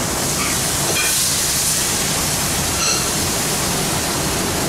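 Wine hitting a hot restaurant pan of caramelizing vegetables gives a loud, dense, continuous hiss of sizzling and boiling steam, close and sustained throughout.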